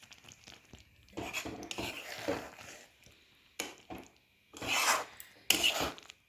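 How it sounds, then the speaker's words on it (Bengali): A spatula scraping and stirring a begun sundari eggplant dish in a pan with the flame off, producing several separate rasping scrapes with quiet pauses between them, close and fairly soft. "গ্যাসের ফ্লেম অফ করে দিয়ে নাড়াচাড়া সব কিছু মিশিয়ে নিলাম।"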